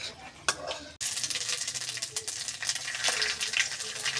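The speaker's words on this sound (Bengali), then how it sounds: "কাজু বাদাম ভাইজে নেব।" Cashew nuts fry in hot oil for a biryani, giving a close, continuous sizzle with stirring scrapes after a brief opening clatter.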